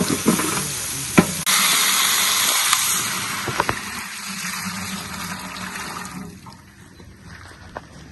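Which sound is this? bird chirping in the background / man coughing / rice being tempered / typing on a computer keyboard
rice being tempered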